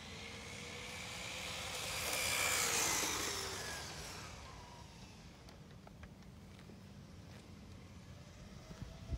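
A Traxxas 4Tec 2.0 RC car with an XL5 controller on a 3S LiPo runs at full throttle, its high electric whine swelling as it passes nearby, then fading into the distance over quiet outdoor background.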